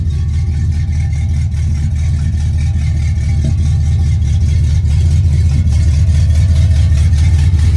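A 1986 Chevy Caprice Classic Brougham with a swapped 350 V8 runs at a steady, loud idle, a deep even rumble that holds unchanged throughout with no talking.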